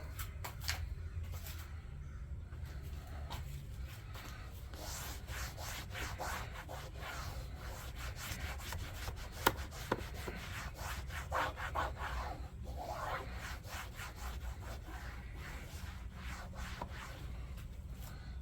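Dry buffing ceramic graphene paste wax off a car's paint by hand, a steady close rubbing and wiping that runs in quick back-and-forth strokes throughout, with no talking.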